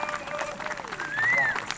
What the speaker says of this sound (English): Thundering applause for a banjo player